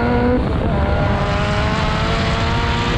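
Loud, close engine roar with rising harmonic tones as a Nissan S15 Silvia and a BMW M3 Competition accelerate hard side by side in a drag race, sustained for the whole stretch with no talking.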